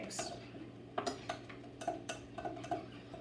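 Vanilla is stirred into chocolate mud cake batter, a spoon knocking and scraping quietly around a bowl in a loose rhythm of soft clinks.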